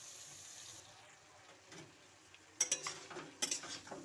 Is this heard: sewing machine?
no